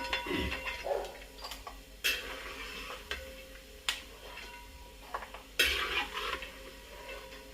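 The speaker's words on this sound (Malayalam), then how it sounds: "തേങ്ങാക്കൊത്ത് ഏകദേശം മൂത്ത് വന്നിട്ടുണ്ട്. ഇനി ഇത് കോരിയെടുക്കാം." Fried coconut pieces scooped out of a pan with a metal spoon, giving several sharp scraping and clinking strikes spaced a second or so apart over a faint sizzle, heard close up.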